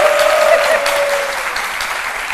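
A studio audience on a French TV magazine show applauds a guest witness, a hacker named Mr. Khalil, with loud, dense continuous clapping that fades only slightly, and no voices over it.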